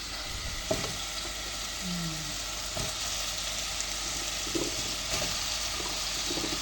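Onion, tomato and garlic sautéing in a pan, a continuous close frying hiss with occasional clicks and scrapes of a stirring utensil, and a brief voice murmuring in the background.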